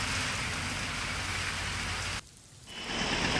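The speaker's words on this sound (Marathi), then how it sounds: "कल्याण डोंबिवलीमध्ये मुसळधार पाऊस सध्या सुरू आहे" Heavy monsoon rain pours down in Kalyan Dombivli as a dense, steady hiss, dropping away briefly before the downpour swells again.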